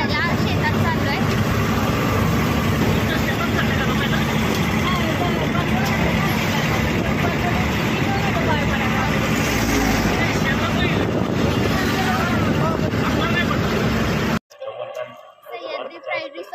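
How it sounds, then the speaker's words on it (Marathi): A tractor hauls visitors through farm fields on an agro-tourism safari at Sahyadri Pride Resort, its loud, steady engine rumble mixing with the chatter of a crowd for about fourteen seconds before cutting off abruptly into quieter sounds. "आता आम्ही आलो ट्रॅक्टर सफारी करायला"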